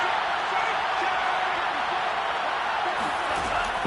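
Stadium crowd in the Madden 22 football video game roars steadily and loudly as the home fans rise during a two-point conversion attempt, a dense, unbroken wall of cheering noise.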